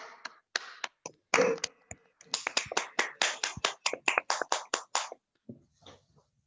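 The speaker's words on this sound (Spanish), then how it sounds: "les pido que le demos una calurosa bienvenida con un aplauso" A small audience at a school Advent retreat for parents claps to welcome a priest, sparse individual hand claps building into a short, uneven round in a quiet room after brief talk.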